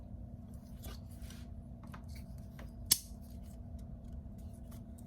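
A blade makes a single sharp snip through a plastic water bottle, a short crisp click standing alone against quiet room hiss with a few faint handling rustles around it.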